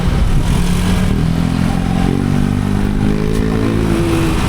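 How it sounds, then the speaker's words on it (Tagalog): A loud scooter engine drones close by, its pitch climbing steadily as it accelerates, with no talking. "Ano itong mga motor dito?"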